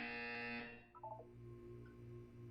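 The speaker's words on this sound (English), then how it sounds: "You will hear a buzzer" A buzzer sounding in the Portal 2 video game during a wellness exercise, a short harsh electronic tone that cuts off quickly, followed by faint, blipping electronic tones under a low steady hum.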